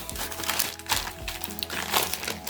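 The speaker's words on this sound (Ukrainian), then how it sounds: "спробую вже використати ножиці, бо ножик мій щось затупився і не хоче він нормально відкривати посилки." Parcel packaging being opened with scissors instead of a dulled knife, giving close, steady crinkling and crumpling of wrap with a few sharper snips and rustles throughout.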